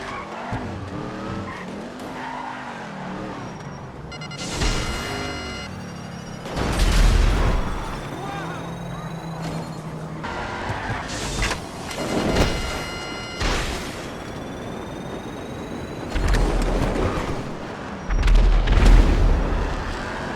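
Missiles from a Ruiner 2000 strike an Oppressor MK2 in GTA 5, with several loud booming explosions bursting between roaring engine noise and tire squeals throughout the fight.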